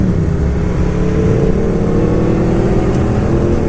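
An Aprilia RSV4R V4 motorcycle engine hums and revs while riding, a loud continuous mid-low drone with slight pitch rises, mixed with road and wind noise.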